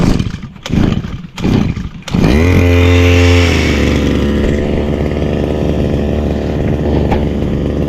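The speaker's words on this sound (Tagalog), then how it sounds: "nagkukulit yung makina atin eh" A small motor engine, revving roughly and running unevenly, bursts into a loud, close, buzzing roar after a few sputtering cut-outs, then holds a steady rasping drone with slight wavering.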